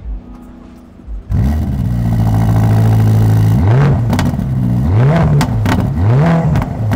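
At the Amsterdam Motor Show, a car's engine cranks and fires after a quiet second, then settles into a loud idle before several rising and falling revs swell up close.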